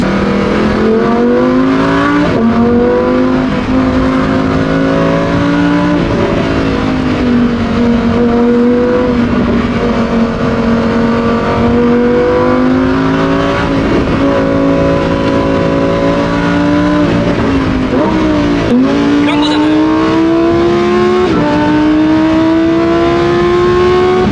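A Lamborghini Huracan STO, started after sitting three weeks, pulls away and drives with a loud, continuous engine drone that climbs through several gear changes and revs, close and alone with no talk.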